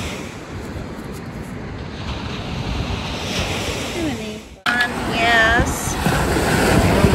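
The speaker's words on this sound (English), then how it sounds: "I'm going to get away from the waves" Ocean surf breaking along a lakeside rock shore, a loud roaring wash of waves mixed with heavy wind buffeting the microphone, with a brief spoken word and a sudden cut midway.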